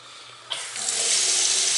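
A faucet is turned on and water gushes steadily and loudly from the tap at close range after a brief click, with no one speaking.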